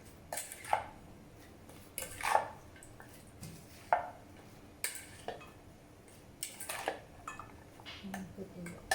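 Thai beef salad with celery, mint and cucumber being tossed in a bowl, heard as scattered soft clinks and scrapes of utensils against the dish, close and quiet, irregular in rhythm.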